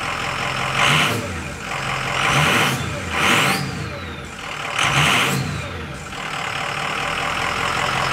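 A 6.0 Powerstroke diesel truck fitted with an aFe Momentum cold air intake and MBRP exhaust, revved three or four times in rising surges with intake whoosh between steady idle, close and loud.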